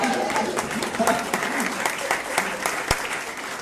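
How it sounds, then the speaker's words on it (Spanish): Audience at a talk on leadership breaking into applause, a lively burst of clapping with distinct sharp claps and crowd voices and cheering mixed in, steady at close range. "¡Vamos, aplauda!"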